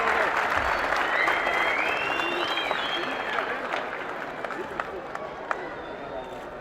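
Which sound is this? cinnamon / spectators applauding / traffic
spectators applauding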